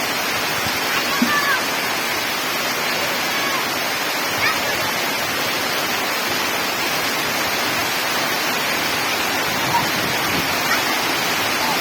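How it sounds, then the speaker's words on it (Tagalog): Heavy rain pours down in a steady, loud hiss of dense noise that does not let up, with a few faint voices now and then. "Lakas ng ulan dito sa amin."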